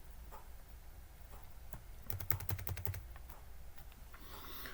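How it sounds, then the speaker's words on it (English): Quiet keystrokes on a computer keyboard, with a few scattered clicks and then a quick run of rapid, evenly spaced taps as a command is entered in a Linux terminal, all close and without speech. "To restart Samba without rebooting, we'll need to type this."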